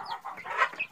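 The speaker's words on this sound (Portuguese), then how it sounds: "Agora eu vou mostrar mais uma galinha que tá com os pintinhos aqui." A hen with a brood of nine chicks clucks on a small rural farm, several quick close clucks in a short, busy burst with no talk.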